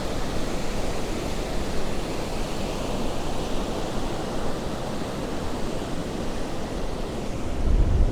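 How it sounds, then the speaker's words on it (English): Ocean waves wash up the shore in a steady, loud broadband roar, close and unbroken, swelling slightly at the end with no voices. "some of the waves come further up"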